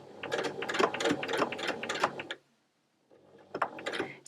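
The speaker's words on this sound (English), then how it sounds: "you may again need to use the hand wheel to make sure that you can get up onto the tab, and then the machine should be fine sewing again" A domestic sewing machine stitches a quilted fabric keyring in a rapid mechanical clatter. A two-second run stops, and after a short pause a second burst starts, close and fairly loud.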